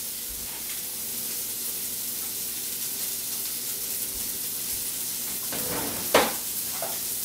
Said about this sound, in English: Just want to stir these onions up a little bit.